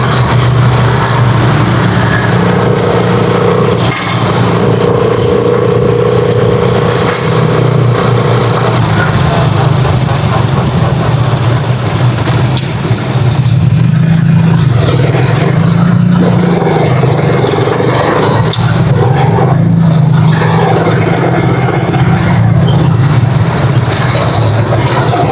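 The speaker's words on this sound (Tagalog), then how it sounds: "Traffic." Road traffic near a bridge over the Cagayan River, with loud, continuous engine drone from passing vehicles, varying in pitch as they come and go, close by and filling the whole stretch.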